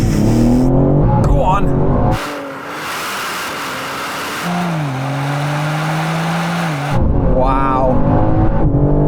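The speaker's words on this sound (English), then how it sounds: "I'm going to launch it as best as I can because I'm going to see if I can get a better time." A Manhart BMW launches hard in a drag race, its engine roar rising and falling with gear changes beneath excited shouting from people nearby.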